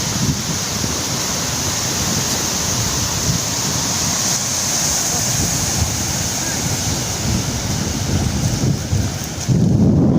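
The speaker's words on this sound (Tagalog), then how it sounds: "Ito man, laki ng alon" Big ocean waves crash and surge along a rocky shore in Eastern Samar, a steady loud roar of surf with wind buffeting the microphone throughout, swelling slightly near the end.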